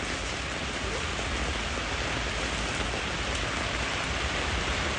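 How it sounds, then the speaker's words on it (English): Heavy summer rain falls by the river in Cologne, Germany: a loud, unbroken roar of drops striking surfaces nearby, constant throughout with no talking. "raining in summer rain in Cologne"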